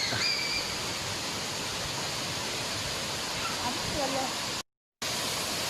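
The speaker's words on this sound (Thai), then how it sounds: "เสียงน้ำตกนั้นทำให้เราหายเหนื่อยจริง" A waterfall at Doi Inthanon in Thailand, a steady broad rushing hiss of falling water filling the whole clip with a brief dropout near the end, with faint voices in the background.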